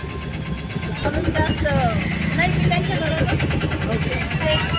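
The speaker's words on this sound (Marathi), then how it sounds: "ट्रॅफिक भरपूर आहे, गर्दी भरपूर आहे" Heavy street traffic in Ayodhya near Hanumangarhi and Ram Janmabhoomi, with engines idling and revving close by, horns and rickshaws amid a crowd, and people talking throughout.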